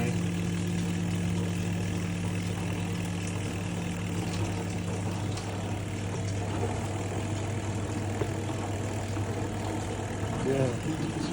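A Hitachi PS330P twin tub washing machine spins steadily with a continuous low motor hum and drone, heard close up and unbroken throughout.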